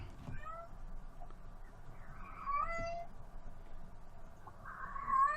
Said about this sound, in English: I've got a little kitten here that wants to go out through the door.